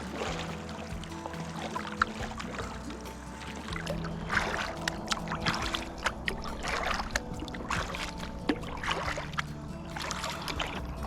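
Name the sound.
loaded kayak launching onto calm water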